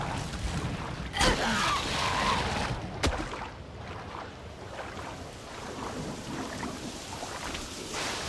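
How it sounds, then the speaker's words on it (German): Rain and thunder in the King Kong video game: a steady wash of rain and wind with two sharp thunder cracks early on, loud and close, and no talking. "Jetzt fängt es auch noch an zu regnen."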